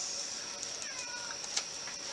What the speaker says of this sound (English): The cat is talking to us right now.